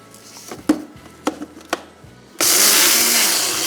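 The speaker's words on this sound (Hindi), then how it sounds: "इसके बाद सबसे पहले इसको पीस देंगे" Electric grinder crushing whole spices for qorma masala: a few soft knocks and clicks as the jar is handled, then the motor bursts into a loud, steady roaring whir.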